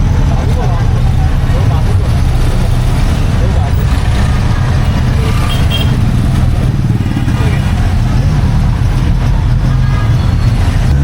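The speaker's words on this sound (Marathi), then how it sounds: "आज ट्रॅफिक मित्रांनो भरपूर लागले वाटतं." Heavy road traffic near Virar in Maharashtra makes a loud, continuous rumble of motorcycles, cars and larger vehicles passing close. A person talks over the traffic.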